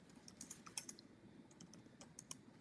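Quiet typing on a computer keyboard, uneven bursts of light clicks close by, with no talk over them.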